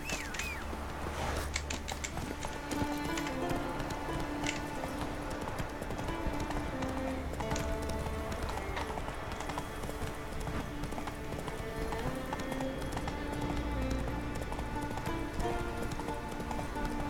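Horse hooves clip-clop at a steady galloping rhythm in The Witcher 3: Wild Hunt, continuous and fairly close over layered game music and ambience, with no talk.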